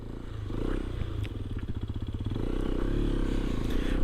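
A 2025 Hero Xpulse 210 motorcycle turning around in a tight U-turn, its engine a close, steady low putter with a rhythmic pulsing that thickens slightly as it pulls away from the turn.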